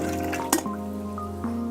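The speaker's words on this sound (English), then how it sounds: "discard this first batch of water," Water is dumped out of a LifeStraw Max filter as the first batch is discarded: one brief splash and a few drips, heard over a steady low hum.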